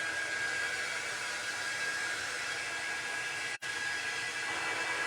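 A hair dryer blows steadily and loudly up close, drying Mod Podge on a Dollar Tree sign being upcycled. The whoosh cuts out for a split second partway through, then resumes without voices.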